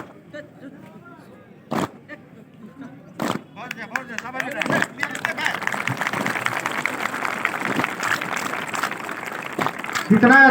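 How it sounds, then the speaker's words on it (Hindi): An audience at a Republic Day school event in India bursts into applause for a children's performance, starting with scattered claps and building into sustained clapping, with a voice speaking over it. "इनका जोरदार तालियों से स्वागत करें"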